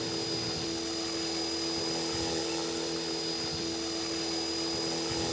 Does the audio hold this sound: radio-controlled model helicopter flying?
yes